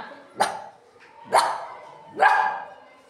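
A voice imitating a dog with three sharp, evenly spaced barks, loud and close, with quiet pauses between them.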